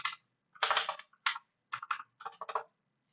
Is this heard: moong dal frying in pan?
no